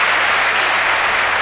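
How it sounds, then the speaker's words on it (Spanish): An indoor crowd in the Valdáliga sports hall applauds at a women's tournament final, a loud, dense, continuous burst of clapping filling the whole moment. "El gran aplauso del Polideportivo de Valdáliga para ella."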